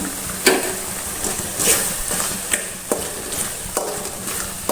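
Kundapura-style prawn sukka masala cooking in a pan with a steady sizzling bubble and a few sharp stirring scrapes spaced through it, close and fairly loud.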